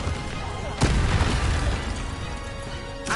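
An Incendio fire spell cast in Hogwarts Legacy, with one sharp, loud blast near the start that rolls into a rumbling whoosh, set against a constant game background.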